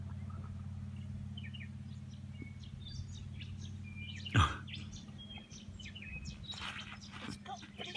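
Birds twitter outdoors in rural Warialda, scattered small chirps and tweets coming from some distance over a steady low hum, with one sharp knock midway and a denser burst of calls near the end.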